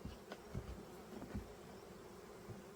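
Honey bees from a package colony inside a Ukrainian-style hive give off a faint, steady low drone, with a few brief louder swells of buzzing passing close by.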